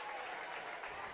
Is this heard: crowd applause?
yes